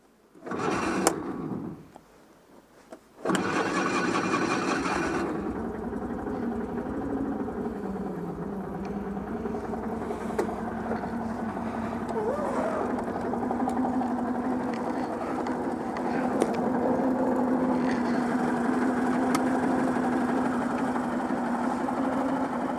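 A Citroën car engine, recently fitted as a new unit, turns over briefly, catches and settles into a steady, even idle that carries on close by and fairly loud, with no talk over it.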